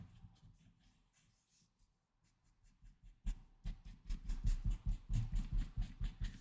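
A pencil shades a Zentangle drawing on paper, at first with faint sparse scratches and then with close, rhythmic back-and-forth strokes that grow louder.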